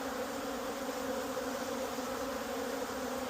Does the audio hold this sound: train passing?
no